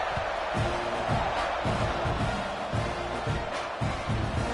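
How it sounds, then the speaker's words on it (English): Stadium crowd in a football video game, a steady dense roar with faint cheering swells running throughout, loud and continuous. "this crowd is buzzing after that last score"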